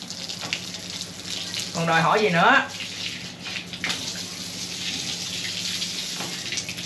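Water runs steadily from a tap hose outdoors, a constant gushing splash near at hand, while a person speaks briefly over it.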